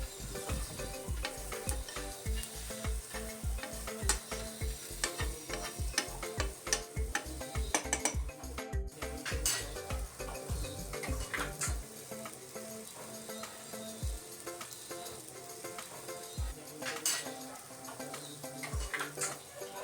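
Bitter gourd and onion curry sizzles in a pan as a utensil stirs it, with quick rhythmic scraping strokes for the first half, then a softer steady sizzle broken by occasional single scrapes.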